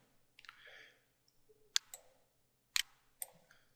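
Several crisp computer mouse clicks, spaced irregularly with faint keyboard-like ticks between them, close and quiet in a still room while someone works through a statistics program.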